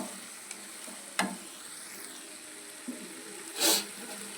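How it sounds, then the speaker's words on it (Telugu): Prawns fry in oil with coriander, salt and chili powder, giving a quiet steady sizzle with a couple of sharp utensil taps and a brief louder hiss near the end. "కొంచెం కొత్తిమీర, ఉప్పు కారం అంతా బాగా పట్టే వరకు 2 నిమిషాలు ఇలాగా బాగా ఫ్రై చేసుకున్నాం"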